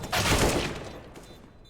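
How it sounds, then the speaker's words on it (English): A bomb detonates on the Mirage map in a CS:GO match, a loud broadband blast that swells for about half a second and then decays into a long rumbling tail with no voices. "Beautiful bomb sound, of course."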